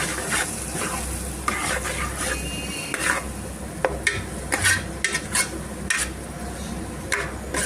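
Ginger garlic paste frying in a pan of oil for a fish curry, a steady sizzle punctuated by repeated scrapes and clinks of a spoon stirring against the metal pan, close and moderately quiet, without speech.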